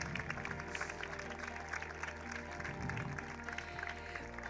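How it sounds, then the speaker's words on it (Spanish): A crowd applauds at the Mister International Spain 2023 pageant for Miss World Spain 2023, Corina from Tenerife, with steady, dense clapping over a backdrop of music that keeps going throughout. "pido un fuerte aplauso para ella"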